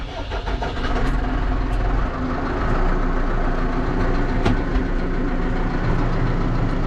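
A tractor engine on a corn farm cranks and catches, then settles into a loud, rumbling idle as it warms up, with a few sharp clanks and knocks over the running engine.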